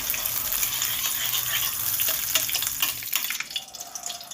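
Paneer fries in ghee in a wok with a dense, close crackling sizzle and occasional stirring scrapes; the sizzle thins out and grows patchier toward the end.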